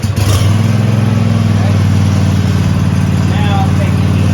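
A zero-turn Ahrens lawn mower engine runs steadily at idle, a loud continuous low rumble close by, with a brief louder burst at the start.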